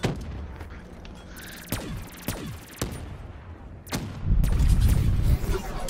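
Gunfire in the shooter game Call of Duty: Black Ops III, several sharp separate shots spaced a second or so apart, with a heavier burst of firing toward the end.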